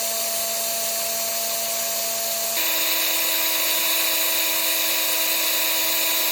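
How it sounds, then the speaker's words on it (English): Power drill spinning a yarn bobbin to rewind it off a spinning wheel, a steady motor whine that drops slightly in pitch partway through, alone with no talk. "You can rewind the bobbin off your wheel onto one of these guys using a power drill."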